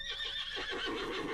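A horse gives one loud, close, high whinny that wavers for just over a second, heard in the setting of a night-time legend from a small town in Guerrero, Mexico. There is no talking.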